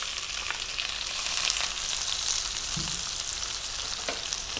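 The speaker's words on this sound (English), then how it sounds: "Then I'm going to go in with 1 cup of onion," Chopped onion hits cumin-infused oil for a paneer curry, giving a loud, dense, continuous sizzle up close with small crackles, no voices.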